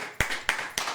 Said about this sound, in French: Applaudis pour moi, chaud.